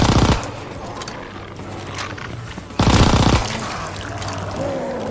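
Video game gunfire in a zombie shooter, with two loud bursts of rapid shots at the start and near the middle over a steady game background hum.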